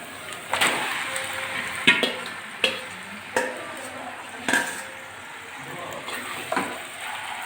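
Marinated chicken is added to a pan with onions already fried and stirred, giving a soft sizzle broken by repeated knocks and scrapes of a spoon against the pan.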